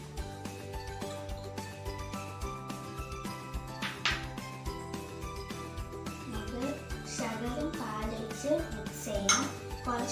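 A spoon or whisk clinks and scrapes against a bowl while baking ingredients are mixed, a steady run of light metallic taps over continuous background music.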